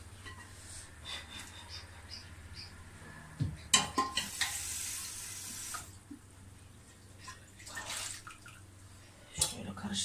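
Boiled radish greens stirred by hand in a pot of water, soft irregular sloshing and splashing with a few sharper clinks, close and moderately quiet over a low steady hum.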